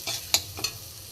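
Boiled banana flower and potato sautéed in a pan over low heat, two quick spatula scrapes over a soft, steady sizzle.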